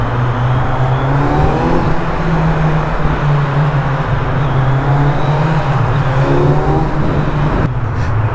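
Motorcycle fitted with a siren exhaust system riding through a tunnel: a loud, steady engine drone with a continuous low tone that holds throughout, echoing and unbroken, with no talking.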